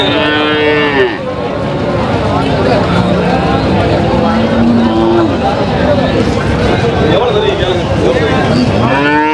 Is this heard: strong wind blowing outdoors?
no